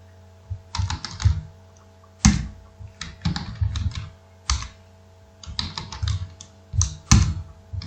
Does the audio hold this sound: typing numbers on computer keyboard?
yes